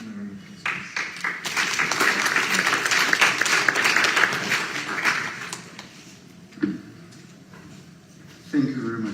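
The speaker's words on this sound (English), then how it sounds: "Thank you, my round of applause," A room of people breaks into applause that swells for several seconds and then fades, with a voice speaking at the start and end.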